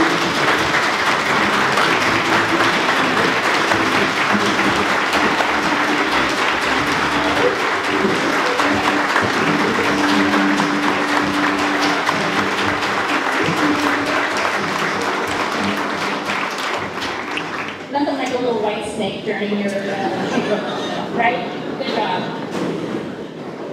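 A chamber of commerce annual meeting audience gives sustained, dense applause for the Chamber Director of the Year, loud and continuous for about eighteen seconds before tapering off, with talk and scattered noise near the end.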